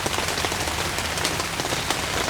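Heavy rain drums on a camping tent in a flooded yard, a loud, constant pattering hiss with scattered sharper drop hits, unbroken and close.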